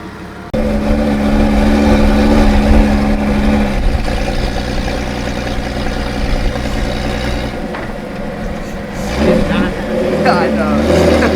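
A Jeep engine idles loudly and steadily close by, a deep rumbling hum that shifts slightly near the end as if revving, with voices talking over it.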